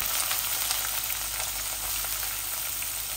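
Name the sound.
chicken and onion frying (kosha bhuna) in a pan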